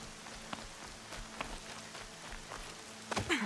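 Rain falling in the video game Horizon Zero Dawn, a faint, steady patter with scattered sharper drops and a few louder ticks near the end, no voices.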